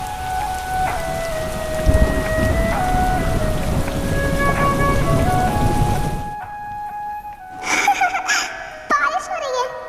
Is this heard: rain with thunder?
yes